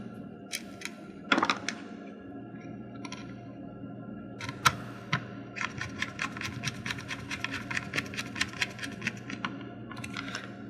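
Small screws being driven by hand into the bottom of a Game Boy Color plastic shell, heard as a close run of quick, light clicking and ticking taps in bursts, with a few louder knocks as the handheld is handled.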